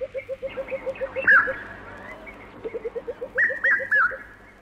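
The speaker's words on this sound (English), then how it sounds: "There's the red-chested cuckoo, a piercing call that can be heard in most parts of East Africa." A red-chested cuckoo in an East African glade at the water's edge gives piercing whistled notes in two bursts, heard over a steady run of rhythmic low pulsing calls from other creatures.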